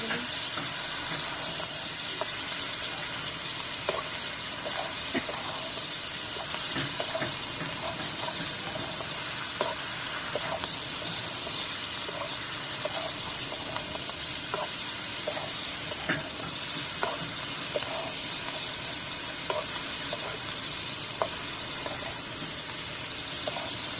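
Koi fish masala sautés in a pan with a continuous soft hiss and bubbling, while faint clicks and taps from the spoon recur at an even pace throughout.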